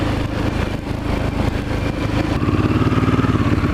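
A motorcycle engine rumbles in a steady, close, loud pulse while riding through New York City streets near Central Park, its throb quickening slightly toward the end.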